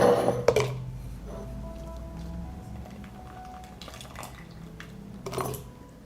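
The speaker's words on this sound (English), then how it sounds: "Fill the jars with pasta." Dry pasta poured into glass jars, with clinking glass and rattling pieces at the start and end and quieter handling sounds in between, close and without talk.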